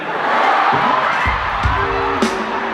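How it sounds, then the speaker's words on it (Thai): Loud crowd at a Thai fan concert (Cutie Love Fan Concert) cheering and shouting in a dense, sustained roar, with a few whoops rising above it. "ขอเสียงปรบมือให้น้องนัทด้วยครับ"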